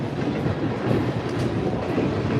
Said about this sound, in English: this noisy ass train that's going through here